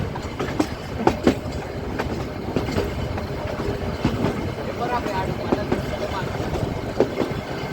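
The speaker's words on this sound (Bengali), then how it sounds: "এরপর ট্রেন পাইন ফরেস্টের মাঝ দিয়ে চলতে শুরু করলো" Ooty toy train rolling through a pine forest, a steady rumble with clicking wheel beats and rattling carriages heard up close from on board, with faint voices in the background.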